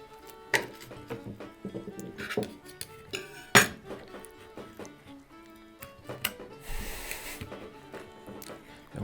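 Cutlery clinks and scrapes against plates during a meal of roast small bird, with scattered sharp metallic taps and chinks in an irregular rhythm, close by and mostly without talk.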